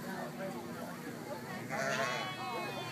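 On a farm, sheep waiting to be shorn let out a few close bleats amid the murmur of people talking nearby, with one longer, louder bleat partway through.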